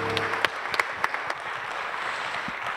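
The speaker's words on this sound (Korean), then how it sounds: "감사의 박수 올리겠습니다." Applause of thanks at a church music service, scattered claps standing out at first before settling into a softer, continuous patter from the congregation.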